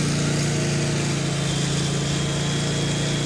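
A small engine on railcar unloading equipment runs steadily at raised throttle, a loud, constant buzzing drone close up with no voices.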